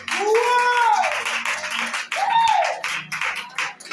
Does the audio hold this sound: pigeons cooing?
no